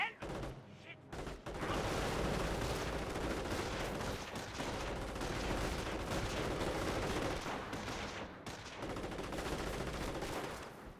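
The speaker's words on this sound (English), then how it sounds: "Sniper hits there onto the airborne squad." Sniper rifle fire and combat in Company of Heroes, a dense, continuous wash of battle noise with overlapping gunshots and explosions, loud and sustained for most of the stretch.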